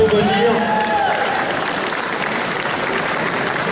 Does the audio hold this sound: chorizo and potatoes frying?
no